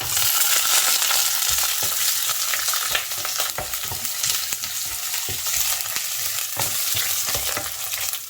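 Red chillies, cumin, fennel, poppy seeds and garlic sizzle in hot oil over a medium flame for a Chettinad tomato side dish, with a steady fry punctuated by repeated scraping stirs of a spoon in the pan.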